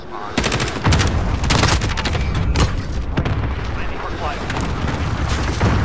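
Shotgun fire in a first-person online shooter, several loud booming blasts close together in the first seconds, then a dense rumble of gunfire and explosions, with voices talking over it.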